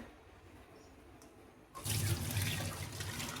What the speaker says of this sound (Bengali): এবার এটাকে একটা স্টেইনার দিয়ে ছেঁকে নিতে হবে